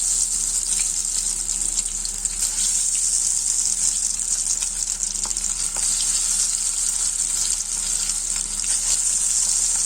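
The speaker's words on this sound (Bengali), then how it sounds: "সেটা দিয়েই আমি আজকে চপ ভাজছি।" Catfish chops frying over low flame in reused oil from an earlier batch, a loud, steady, close sizzle that crackles continuously with faint stirring scrapes.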